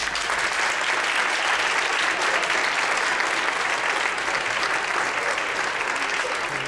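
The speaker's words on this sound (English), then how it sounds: "Stand up for some extra applause" Sustained applause from a school concert audience, steady and dense throughout at an even loudness, with no talk over it.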